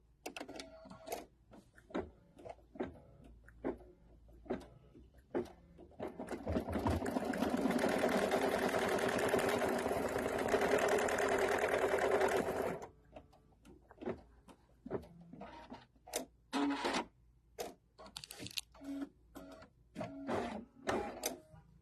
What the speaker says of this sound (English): now we're going to stitch the placement line for strap hole number 2